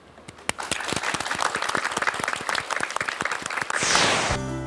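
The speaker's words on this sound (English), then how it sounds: "Please give them a warm round of applause as we say our goodbyes" Applause from an audience for the Pongsan Mask Dance Drama Preservation Society after a Korean traditional music performance, a burst of sharp, closely spaced claps that carries on steadily for several seconds before fading out.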